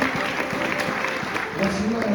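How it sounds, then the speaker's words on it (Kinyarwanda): A congregation at a church service claps together, a steady patter of applause with voices speaking over it. "Mwete tuwakomera amashyi."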